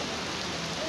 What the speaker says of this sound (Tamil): எங்கள் ஊரில் பாருங்கள் பயங்கர மழை மழை பெய்யுது